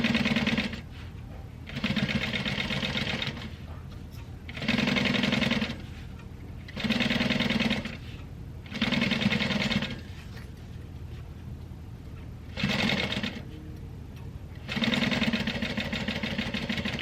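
A sewing machine stitches a quarter-inch seam in short bursts of steady mechanical whirring, about seven runs separated by brief pauses, close and clear with no talking.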